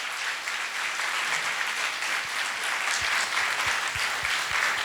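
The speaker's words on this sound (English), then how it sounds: "Can we give them the round of applause?" An audience at the closing of a charity governance conference applauds, a full, steady burst of clapping from a large crowd that holds evenly throughout.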